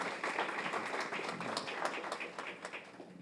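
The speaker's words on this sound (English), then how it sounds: "Please give him a round of applause." Fairly faint applause from an audience at a community re-entry program graduation, steady clapping that tapers slightly toward the end.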